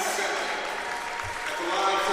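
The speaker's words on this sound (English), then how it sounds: "a really nice ovation and a round of applause from the Calhoun faithful" Crowd applause at a college women's basketball game as a player fouls out, a steady ovation of clapping filling the gym with a broadcast commentator's voice faintly under it.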